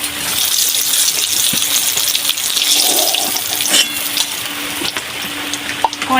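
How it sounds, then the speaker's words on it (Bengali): Hilsa fish frying in hot oil in a wok, a steady bright sizzle and crackle with a few sharp clinks and pops, close and loud, with no voices. "বাকি তিনটে মাছ আমি ভেজে নেব। এইভাবেই ভেজে নিলাম।"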